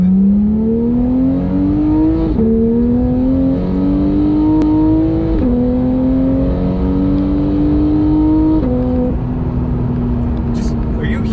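A Porsche 911 GT3 engine pulls hard and loud through successive gears. Its pitch climbs steadily, then drops with a quick snap at each of three upshifts.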